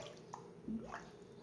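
Water seeping into a glass dipped upside down in a water tub, showing that air escapes from the glass: a few faint drips and a small gurgle, close and quiet with no talk.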